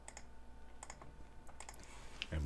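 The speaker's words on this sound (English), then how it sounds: "I'm just clicking on those stars." A computer mouse clicks faintly on star icons in the Joomla article manager, giving a few scattered, sharp clicks over quiet room tone.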